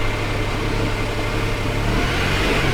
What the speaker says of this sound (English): That's the engine started.